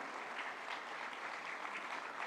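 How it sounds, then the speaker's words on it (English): A hall audience at a National Science Day celebration claps steadily as a minister enters and walks to the dais; the dense, even applause is fairly faint and distant, with no talk over it. "extend a warm round of applause as he makes his way into the hall on the dais"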